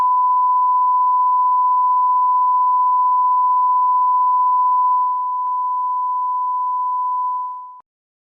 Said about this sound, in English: This test pattern's a little loud.